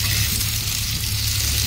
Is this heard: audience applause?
no